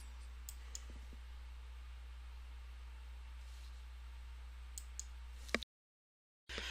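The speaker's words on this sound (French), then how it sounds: "je clique sur le bouton numéro 8 qui permet d'exporter ce fichier au format Excel" A few faint, sharp mouse clicks while exporting a file to Excel in software, spread out over a steady low hum, followed by a brief dead silence.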